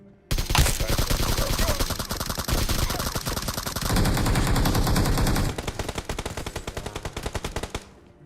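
Continuous automatic gunfire in a shooter video game, a dense rapid stream of loud close shots running for about seven seconds with slight shifts in intensity before cutting off.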